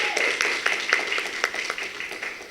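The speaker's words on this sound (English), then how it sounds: "Please give everybody a round of applause." Audience applause for Youth of the Year applicants, steady scattered clapping from a modest crowd, moderately close, with individual claps standing out over a soft wash.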